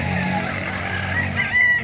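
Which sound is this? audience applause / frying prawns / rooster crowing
rooster crowing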